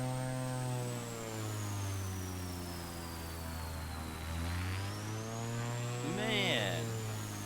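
A Velocity XL RG experimental plane in Microsoft Flight Simulator, its supercharged engine giving a steady droning hum with a high whine that slowly falls and rises, while a person talks briefly near the end.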